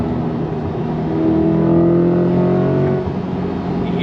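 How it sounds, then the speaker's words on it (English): A Chevrolet Corvette E-Ray V8 engine on a track swells to a strong, steady revving drone with rising harmonic pitch, loud and close, then eases off near the end. "You hear that sound? That V8?"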